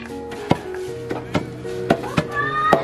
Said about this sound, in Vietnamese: các bạn có nghe thêm tiếng băm cọc cọc bên kia không? Bên kia là mọi người đang chế biến, đàn ông nam giới đang chế biến những con bò